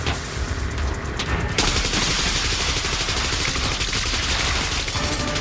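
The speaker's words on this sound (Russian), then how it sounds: "просто на тебе автоматная очередь." Rapid automatic gunfire from a Terminator film scene bursts out as a dense, loud volley of shots, continuous and sharp-edged across several seconds with a brief lull early on.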